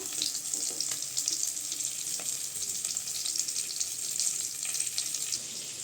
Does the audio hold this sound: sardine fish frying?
yes